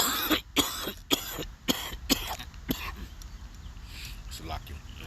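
A man preaching has a coughing fit, a rapid series of sharp, harsh coughs close to the microphone that trail off into throat clearing and quieter breathing.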